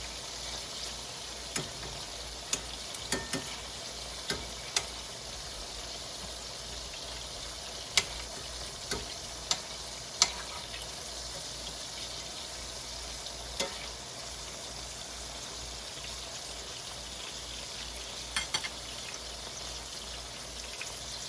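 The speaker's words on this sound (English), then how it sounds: "Another stir, make sure it's not sticking." Mushroom risotto being stirred in a pan, a steady soft sizzle with sporadic scraping clicks and taps from the utensil spread across the stretch, no voices.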